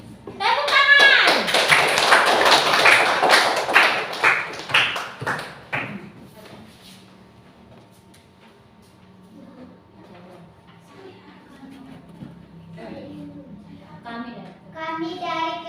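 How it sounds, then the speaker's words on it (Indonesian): A classroom of university teacher-training students claps for the first discussion group as it comes forward, a loud burst of many hands that fades after a few seconds into quiet shuffling and talk. "Tepuk tangan."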